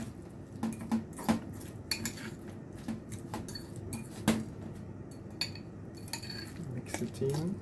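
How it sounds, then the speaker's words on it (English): A metal utensil stirs a wild garlic sandwich filling in a bowl, giving repeated scraping clinks and taps at an uneven rhythm, close and moderately loud. "Mix it in."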